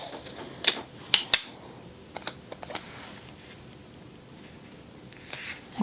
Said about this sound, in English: Tape it down in the corners.